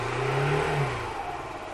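A moped or motorcycle engine idles close by and is revved with the throttle, its pitch rising and then falling back over a couple of seconds, loud and alone without talk.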